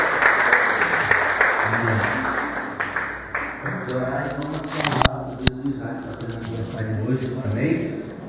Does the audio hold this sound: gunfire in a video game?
no